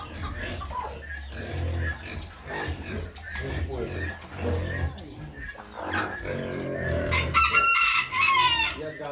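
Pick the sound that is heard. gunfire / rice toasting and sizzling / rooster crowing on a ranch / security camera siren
rooster crowing on a ranch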